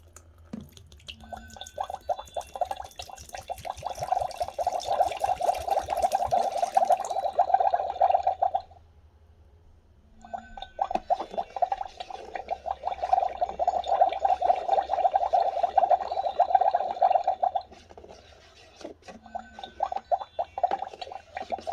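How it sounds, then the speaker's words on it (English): Water poured into a plastic toy cauldron in two long, steady streams separated by a short pause, a close trickling and splashing fill sound with dripping at the ends. "Add in the water."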